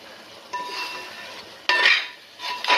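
Ginger, onion, garlic and green chili sauté in a pan, with a few bursts of spoon scraping and clinking against metal over a low sizzle, no voices.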